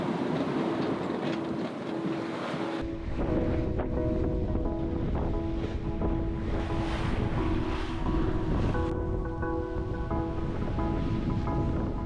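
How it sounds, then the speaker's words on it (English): A sailboat crossing offshore from Samoa to Tonga bashes into big ocean waves, heard from below decks as a steady, loud roar and rumble of water and hull noise with no speech. "we're bashing into pretty big waves"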